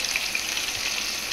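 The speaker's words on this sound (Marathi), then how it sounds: "मच्छीला मस्त फ्राय होऊ देऊ" Fish fries in a pan of oil, a soft steady hiss of sizzling heard briefly and fairly quietly with no talking.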